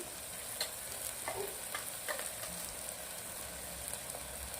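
Vegetables sauté in a hot pan for Korean masala pulao, a steady bright sizzle with occasional spatula scrapes and stirring clatter, close and continuous with no talking.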